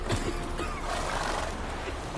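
Roach the horse whinnies in a fantasy role-playing game, a short neigh heard close up over steady ambient game background noise.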